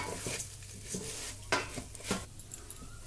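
Rice frying in a pot for white polao is stirred with a utensil, giving faint sizzling under a few distinct scraping knocks against the pot, with no talking.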